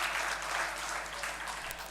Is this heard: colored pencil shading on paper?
no